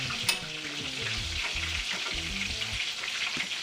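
Meatballs fry in a pan with a steady crackling sizzle, broken by the clunks and scrapes of stirring and turning at close range, and nobody speaks.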